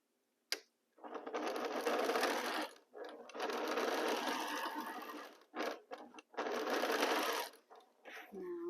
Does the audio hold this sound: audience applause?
no